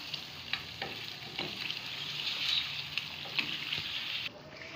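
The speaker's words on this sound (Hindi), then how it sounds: "और इसके अंदर जाएगा नेशनल का बिरयानी का पैकेट मसाला। ये छोटा पाउच इसलिए यूज़ कर रहे हैं ताकि समझने में मुश्किल ना हो। अब इसको अच्छे से मिक्स करेंगे।" Biryani spice mix from a packet is being stirred and fried in a pan, making a soft continuous sizzle with light spoon scrapes and taps, fairly quiet with no talking.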